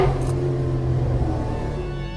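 Classic Holden car engine at an All Holden Day in Canberra, a steady rumbling idle with low harmonic drone and slight rev swells, close and continuous throughout.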